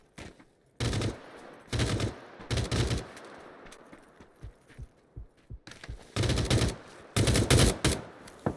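Video game gunfire rings out in loud automatic bursts, several long volleys separated by quieter stretches of scattered single shots, with no talk over it.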